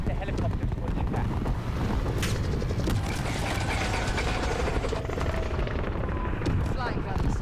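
A helicopter in a Call of Duty Modern Warfare mission makes a dense, loud, rapid rotor chop mixed with rumbling blasts and mechanical clatter, continuous throughout with no clear voices.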